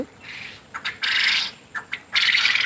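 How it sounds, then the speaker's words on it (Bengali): Laying birds on a farm and hatchery calling in short bursts and squawks, a noisy chorus rising and falling with brief pauses between, fairly close. "সোলন হোসেন ভাই আমার পাখিগুলো প্রায় সত্তর থেকে পঁচাশজন হয়েছে"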